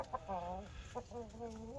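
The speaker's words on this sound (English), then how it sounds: "this is our rooster, Reggie." Reggie, a backyard rooster in a flock with Silkie chicks, gives a few quiet, drawn-out clucking murmurs up close, soft and low in level.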